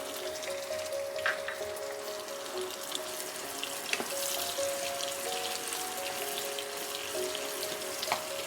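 Four medium onions, finely chopped, frying in oil for mutton monohari: a continuous, moderately loud hiss with faint scattered crackles and a low steady hum underneath, no talking.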